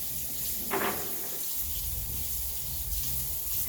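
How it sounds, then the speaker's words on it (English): Tap water runs steadily into a kitchen sink as a knife used for scooping dough is rinsed, with a brief splash as the blade passes under the stream, close and fairly loud. "And then I'll wash my knife off."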